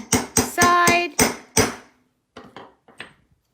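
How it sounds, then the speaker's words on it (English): A hammer strikes a metal letter stamp on a steel stamping block for hand-stamped buttons, six sharp ringing hits in quick succession, then several lighter taps, close and alone. "Take my hammer, give it a nice hit"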